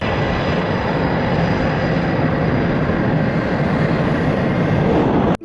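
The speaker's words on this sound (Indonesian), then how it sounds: "Ternyata pesawat tempur." Toy fighter jet aircraft giving a loud, continuous roaring engine-like drone that holds steady for about five seconds before cutting off abruptly, with no talking.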